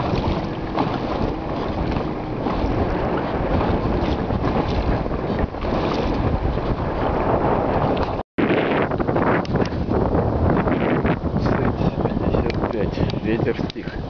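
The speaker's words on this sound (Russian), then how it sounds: "Такая вот волна в морду." Loud continuous wind roar and splashing water as waves hit the bow of a boat pushing through choppy water, with a brief dropout midway.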